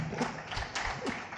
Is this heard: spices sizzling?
no